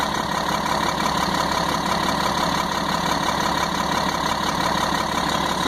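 A 1998 GMC C8500 truck's Caterpillar 3116E diesel engine, with a faulty ECM and cold oil, idles steadily up close, its rpm gradually dropping as it settles, with no talking.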